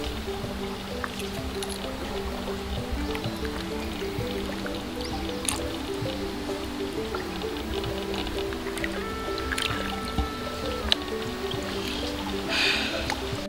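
Small river fish being squeezed by hand to push out the innards, a steady run of soft, wet squishes and drips close up, continuous throughout with a faint background hum.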